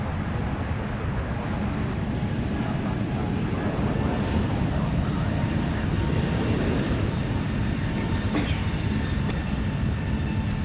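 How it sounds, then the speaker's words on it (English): A Boeing 777 airliner departing San Francisco for Honolulu, a loud, steady broadband jet roar that holds throughout at close range, with a few brief higher clicks late on. "there goes the big 777, heading out to Honolulu"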